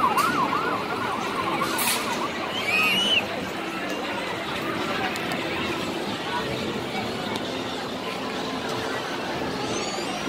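A distant ambulance siren wails through busy outdoor background noise, with people talking nearby.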